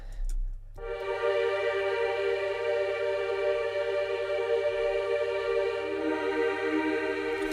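A dry synth pad holding sustained chords with no effects, part of an up-tempo R&B beat, a steady smooth tone that enters after a second and plays alone with a slight change near the end.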